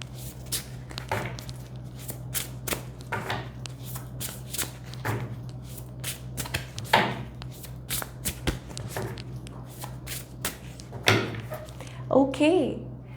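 A deck of tarot cards is shuffled by hand into two piles, giving repeated crisp riffling bursts with soft taps and slides between them. Someone talks throughout.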